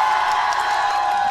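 Live audience cheering and shouting at a 2016 Blade & Soul tournament in Korea, a dense, steady crowd roar filling the whole short stretch without a break.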